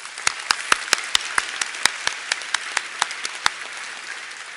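A small audience at the ICASSP 2013 awards ceremony claps for young authors, with sparse, distinct claps spread unevenly over a few seconds and no voices, close and moderately loud.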